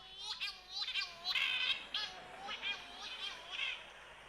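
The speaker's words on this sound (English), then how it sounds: "the extraordinary sound of the Corey's shearwater" Cory's shearwater seabird giving a run of wailing, rising and falling calls in quick repeated bursts, fairly faint and heard alone without talk.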